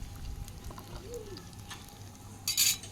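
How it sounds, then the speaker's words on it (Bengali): An egg fries in hot oil in a pan on a very hot 42° day, giving a soft, steady sizzle with faint crackles and one brief louder spit near the end. "দেখো কি সুন্দর এখানে ডিম ভাজা হচ্ছে"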